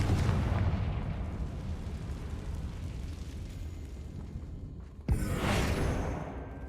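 Confringo fire spell in Hogwarts Legacy, heard as a roaring, rumbling blast that fades, then a sharp crack followed by a second bright burst of flame.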